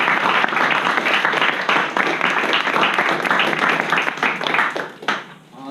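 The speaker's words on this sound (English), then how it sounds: "I'd like everyone to join me in giving a huge round of applause" A debate audience at an LSE Pakistan Society event gives a loud, sustained round of dense clapping that holds steady for several seconds before fading quickly at the end.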